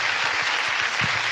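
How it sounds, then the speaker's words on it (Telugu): Sunday school students clap together in a brief, thick burst of applause that stays loud and even from start to finish. "క్లాప్స్ కొట్టినమ్మ గట్టిగా"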